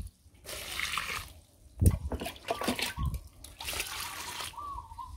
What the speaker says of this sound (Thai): แล้วก็ราดน้ำลงไปเลย